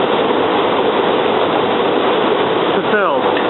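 A commuter train on the line from North Wales to Jenkintown and Willow Grove rumbles along steadily in the rain, a dense continuous roar with a voice speaking briefly near the end.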